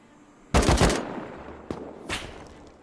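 Gunfire in the video game Rust: a loud, close burst of rapid automatic shots, then a single sharp crack and a fainter, more distant shot, each trailing off into echo.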